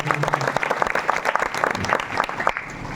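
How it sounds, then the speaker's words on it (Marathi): A crowd applauds for performers at a kirtan, with steady, dense clapping that carries on throughout, fairly loud and close. "आमच्या वैभवदासाठी सुंदर एकदा टाळी वाजवा"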